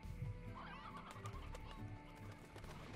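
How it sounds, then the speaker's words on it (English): Chickens clucking in the video game Slime Rancher, a few soft short clucks over a low ambient game background, no talking. "How many chickens are around here?"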